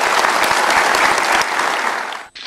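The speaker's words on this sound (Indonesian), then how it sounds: "boleh dikasih tepuk tangan untuk dua tokoh ini." Studio audience on an Indonesian talk show bursts into sustained applause, dense and steady clapping filling the whole stretch before cutting off abruptly at the end.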